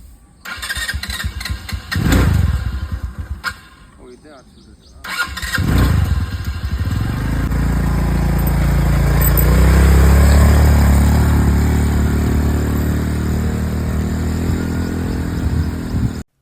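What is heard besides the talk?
scooter engine starting and revving at resort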